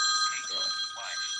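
A phone rings softly with a steady electronic tone that runs throughout, heard over faint background noise.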